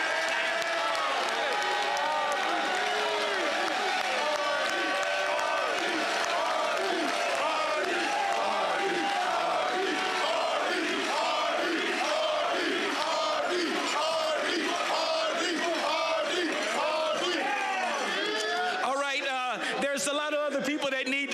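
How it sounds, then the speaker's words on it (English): A stadium crowd at a Toronto Argonauts Grey Cup celebration fan rally roars and cheers continuously, a loud, dense wall of voices with rhythmic swells that rises again near the end. "I'd like you to give him the biggest round of applause we've had today."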